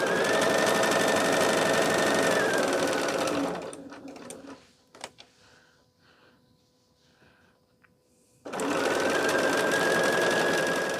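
A sewing machine stitches a quilt block in loud, close bursts: a steady whir that stops for several seconds of light handling and clicks, then starts up again just as strongly.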